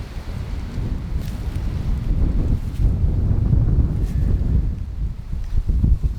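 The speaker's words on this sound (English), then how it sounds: "there's a decent wind" Strong outdoor wind buffeting the microphone with a steady low rumble and gusty swells, rising and falling over several seconds.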